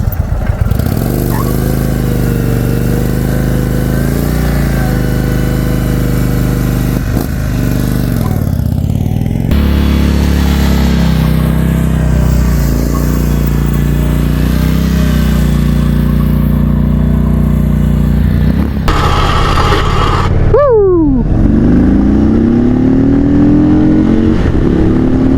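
An Indian Sport Chief motorcycle rumbles steadily while being ridden, the engine note rising and falling through gear changes, with a sharp revving sweep near the end amid wind rush.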